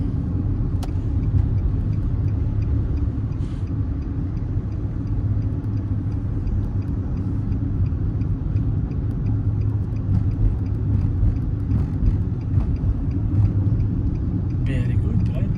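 Low, steady engine rumble of a car being parked during a driving test, heard from inside the vehicle as a continuous drone throughout, with occasional voices.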